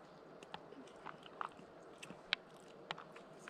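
Someone chewing and biting into food outdoors on a mountain summit, with faint crunchy bites and soft mouth sounds spread across a quiet background, close to the microphone.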